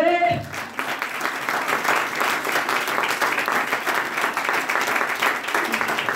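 A church congregation applauds the Lord during a sermon, a dense, steady wash of many hands clapping at once that runs loud and unbroken for several seconds after a brief voice at the start.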